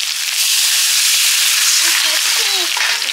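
Spice paste cooked down with water sizzles and crackles steadily in a hot pan, a loud, close, continuous frying hiss with faint voices briefly audible underneath.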